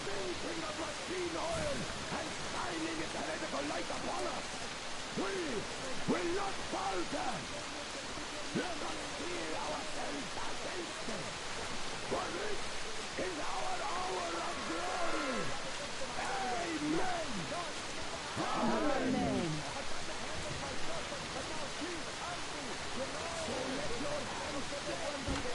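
Constant downpour in the video game Metro Exodus, a broad, unbroken rushing hiss lasting throughout, with intermittent talk and game effects layered over it.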